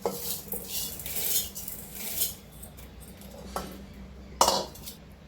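Washed cowpeas are tipped into a metal pressure cooker, bringing a run of close clinks, rattles and scrapes against the pot with one sharp clatter near the end and no talking.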